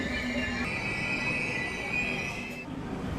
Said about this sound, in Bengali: এই তো ট্রেন ঢুকছে